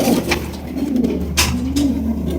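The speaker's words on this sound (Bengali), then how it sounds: "গরলা কবুতর মাশাল্লাহ অনেক সুন্দর সুন্দরী গরলা" Pigeons coo repeatedly in soft, low, rolling calls, steady and fairly close, over a faint background hum.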